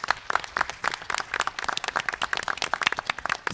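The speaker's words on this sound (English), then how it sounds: "Can we give them a round of applause, please?" Applause from the audience at a family forum on autism, a lively spread of individual hand claps with distinct sharp hits, moderately close and continuing throughout.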